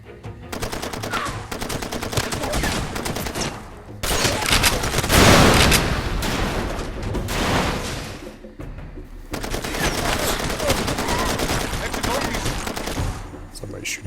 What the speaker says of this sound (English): Somebody's shooting at us with a machine gun.